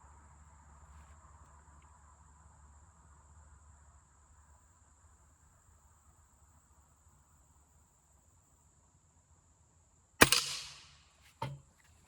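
A Crosman F4 pellet rifle fires a single sharp shot, followed about a second later by a fainter second crack, likely the pellet striking a target at 40 yards, against quiet outdoor ambience with a steady insect-like hum.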